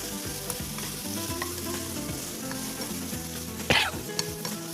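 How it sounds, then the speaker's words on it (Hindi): Cabbage, black mushrooms, carrot and green onion stir-fry together in a pan, a dense close sizzle under rapid rhythmic scraping of the spatula, with one brief sharp clatter near the end and no speech. "ये तमाम की तमाम शामिल हो जाएगी यहाँ एक साथ। और इसको करेंगे जरा सा हम फ्राई।"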